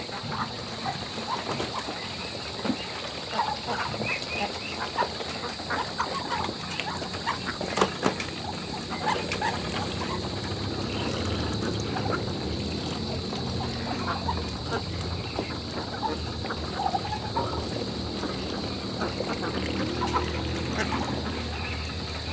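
Muscovy ducks on a mini backyard breeder farm, with soft scattered quacks, pattering and rustling under a steady outdoor hiss, fairly faint and continuous with no talking.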